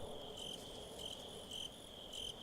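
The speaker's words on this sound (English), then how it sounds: "You're hearing the crickets." Night ambience from Resident Evil 4 with a sustained high insect trill and intermittent cricket chirp bursts, a faint airy background underneath, and no talking.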